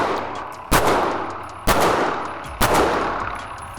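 Three loud, sharp reports from a paintball marker fired while walking, spaced roughly a second apart, each a close crack with a short ringing tail.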